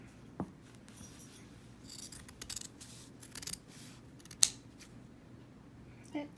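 Scissors snip through quilt fabric while trimming corners, a few sharp, close cuts scattered across a quiet room with faint handling noise between them.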